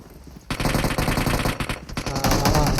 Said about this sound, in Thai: ยิงทำไม